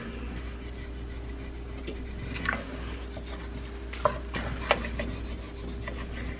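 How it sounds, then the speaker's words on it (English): A utensil scraping bacon and onions off the bottom of a pan while cooking corn chowder, repeated rasping strokes with a few sharper knocks over a steady low hum, close and alone. "So I want to scrape that up."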